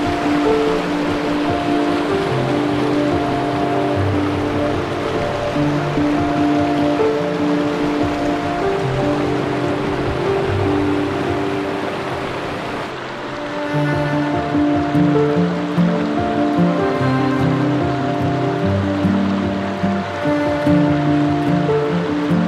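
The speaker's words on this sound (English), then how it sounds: "How beautiful is this river?" A Montana river runs steadily along a fishing and boondocking spot, giving a continuous close wash of flowing water with no voices, and the surface roar stays even throughout.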